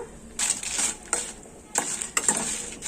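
Dry, crackly rattling and scraping in bursts as dry red chillies are stirred and tossed around in a pan over a medium flame, with short pauses between strokes.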